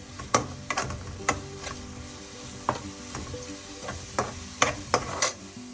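Masala sizzles on high flame in a pan as a spoon stirs it, with sharp scraping strikes landing at irregular intervals over a constant close frying hiss; no one talks.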